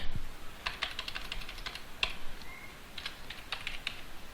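Rapid clicking keystrokes on a computer keyboard, typed in short irregular bursts with brief pauses, close and clear with no talking over it.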